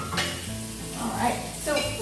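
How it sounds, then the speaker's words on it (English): Chicken sizzling on a grill, a continuous close crackling sizzle with a faint tonal hum underneath, steady throughout without talk. "I love that sizzling sound."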